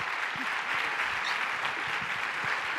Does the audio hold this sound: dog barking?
no